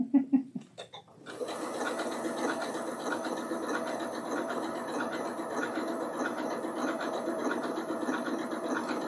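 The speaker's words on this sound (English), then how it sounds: "I'm going to slow myself down because while I love to sew really fast, the applique is not quite as fast." A sewing machine runs steadily as it stitches a wool applique mini quilt, a dense continuous mechanical whir that starts after a second of quieter handling sounds and holds an even, close level throughout.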